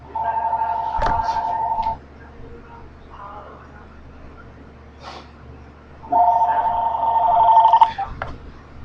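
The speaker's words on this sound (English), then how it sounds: "My phone's ringing." A telephone rings in two bursts of electronic trilling, separated by a quiet pause, with faint background noise.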